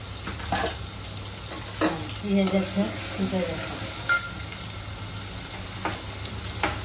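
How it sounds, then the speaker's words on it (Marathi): Onion sizzles steadily in hot oil, with occasional clinks and scrapes of a utensil against the pan and brief low background voices. "तेल टाकलं, फोडणीत पहिले कांदा टाकला आम्ही"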